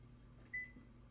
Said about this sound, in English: So I'm going to go ahead and set the timer